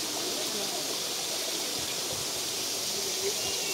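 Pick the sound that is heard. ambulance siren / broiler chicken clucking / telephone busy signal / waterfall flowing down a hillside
waterfall flowing down a hillside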